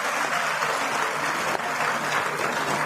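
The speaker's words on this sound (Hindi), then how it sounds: "जोरदार तालियां हमारे कार्यकारी अध्यक्ष साहब के लिए" A crowd at a women's political conference in Panchkula claps for the executive president, producing dense, sustained applause at a steady level from start to finish.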